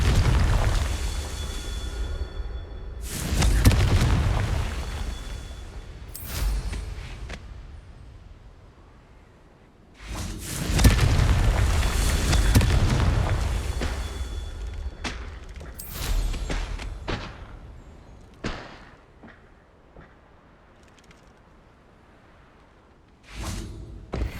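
Fire spell explosions in the video game Hogwarts Legacy, two big booming blasts with rumbling tails, followed by scattered sharp thuds and whooshes of spell effects, loud and without talk.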